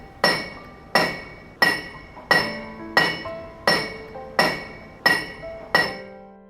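A blacksmith's hammer strikes iron in nine evenly spaced, loud blows. Each bright metallic clang rings out and decays before the next hit.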